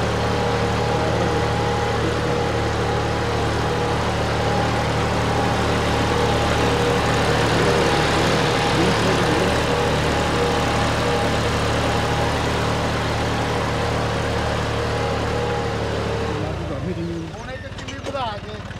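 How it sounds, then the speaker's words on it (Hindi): Tractor engine running steadily while pulling a Dhanjal 22-disc harrow in a field, a loud continuous low drone with a steady hum that holds throughout, then eases near the end. "ट्रैक्टर चल रहा जी"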